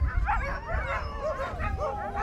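Siberian Husky sled dogs yelp, bark and whimper in an excited, overlapping chorus just before departure, close and loud over a steady outdoor rumble, with a pack of around 80 dogs gathered.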